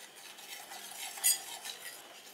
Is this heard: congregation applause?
no